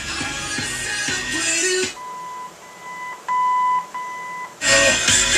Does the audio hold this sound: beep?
yes